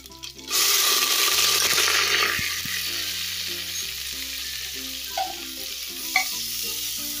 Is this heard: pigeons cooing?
no